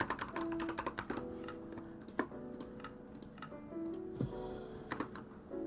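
Clicky keys on a new computer keyboard tapping in quick, uneven bursts of sharp keystrokes over low background game music, with no talking.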